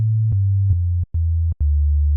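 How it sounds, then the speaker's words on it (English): A steady low sine tone from the default sampler sound in Logic Pro hums continuously, broken by a few soft clicks and two brief dropouts where it cuts out and resumes. "I've just got the default sound in each of these, which is just a sine wave"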